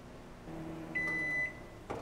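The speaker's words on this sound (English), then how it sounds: "I'm gonna microwave it for 15 seconds." A microwave oven hums quietly while heating butter, then gives a single clear beep, with a short clunk near the end.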